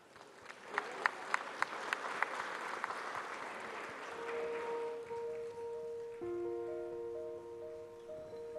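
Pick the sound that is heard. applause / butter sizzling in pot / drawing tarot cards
applause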